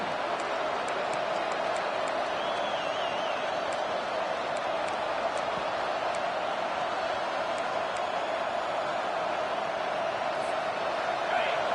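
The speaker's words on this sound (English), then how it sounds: "This crowd going to try to make life miserable for these guys." Football stadium crowd at a college game between Iowa and Texas, a steady loud roar of cheering and noise after a Texas interception, continuous broadband crowd din with no clear voices above it.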